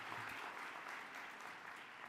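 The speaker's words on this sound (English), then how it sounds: "Please give yourselves another round of applause." Sustained audience applause at a college commencement ceremony, a steady dense wash of many hands clapping at moderate distance, with no gaps across the short stretch.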